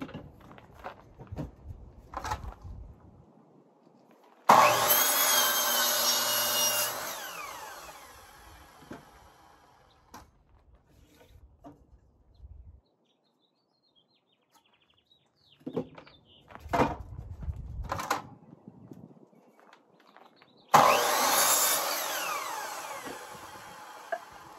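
A wooden post is sawn in two loud bursts, one early and one near the end. Each burst is a harsh, broadband cutting sound. Quieter knocks and handling noises fill the gaps between them.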